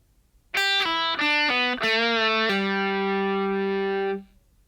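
Distorted electric guitar plays a short run of single notes from a riff, played slowly, then lets a final note ring out with a long sustain before cutting off.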